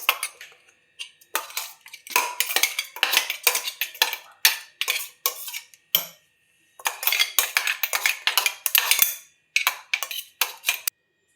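Green chutney scraped from a grinder jar into a bowl with a spoon: a run of close, bright metallic scrapes and taps in bursts, with brief pauses and no talking.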